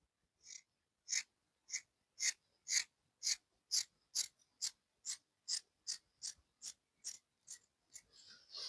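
Scissors snipping through fabric while cutting out an A-line gown, a steady series of about sixteen crisp, close, evenly spaced cuts, quiet and without talk.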